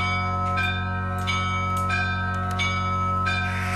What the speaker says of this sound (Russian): Звонарь Юрий Кочергин может передать настроение и двумя колоколами.